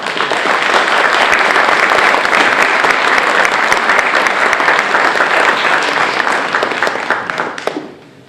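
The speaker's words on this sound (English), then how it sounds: "that deserves a round of applause" A steady round of applause from an outdoor crowd gathered at a graveside anniversary tribute, loud and dense throughout before tapering off abruptly near the end.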